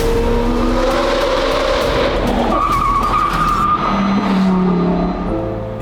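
A $1 million Lamborghini Revuelto skids loudly with squealing tires as its rear end locks up, a harsh sustained scrape with engine noise running through the whole stretch, close and intense.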